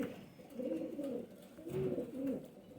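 Pigeons, a pair of male high-flyer Kasuri birds, coo softly inside a small cage in a few low, rolling phrases at close range. No talking is heard.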